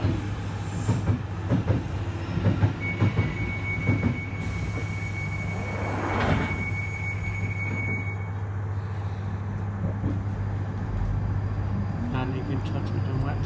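A Northern Line London Underground train pulls away from Totteridge and Whetstone with a rising electric whine, a steady motor hum and rumbling wheels, with a long thin squeal partway through.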